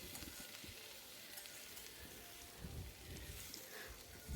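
Tomatoes sauté with salt in a pan for paneer butter masala, giving a faint, steady crackling sizzle with soft irregular stirring.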